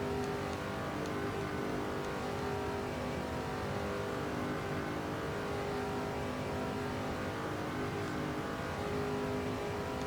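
NASCAR truck engine at full throttle in the NASCAR 2005 video game, a dense, constant roar holding steady and loud for the whole stretch, no voices.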